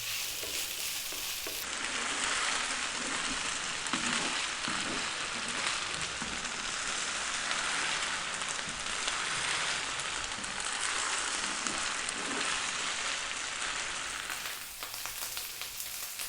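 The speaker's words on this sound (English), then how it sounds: "That is your rice frying." A steady, close sizzle of rice frying in a hot pan for chicken fried rice, continuous crackling hiss with faint stirring scrapes, no voices.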